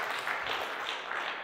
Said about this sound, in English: please clap your hands so the acoustic leakage will be high